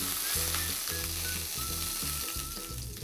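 Continuous close sizzling of pork frying in a hot pan over medium-high heat, loud and steady, with faint low music running underneath.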